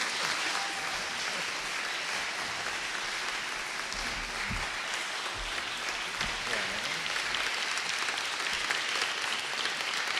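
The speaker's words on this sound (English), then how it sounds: "So everybody, please give them a round of applause." Audience applause at a Melrose Democratic mayoral candidates forum, 2023: a steady wash of clapping from a crowd that holds at an even level for about ten seconds, with a few low thumps and faint voices mixed in.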